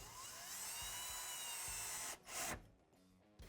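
A power drill whines steadily up close as it bores holes for a mounting bracket on a UTV, then cuts out, followed by a couple of short bursts and clunks.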